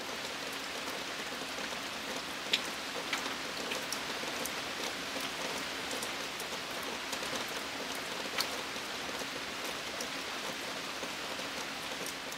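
Steady rain falls on a garden, an even soft hiss with scattered close drip ticks, continuous and moderately quiet throughout with no voices.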